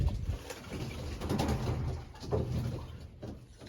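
Racing pigeons cooing softly during their weekly bath, low murmuring coos over splashing water and a steady background hiss, fairly quiet and continuous with no talking.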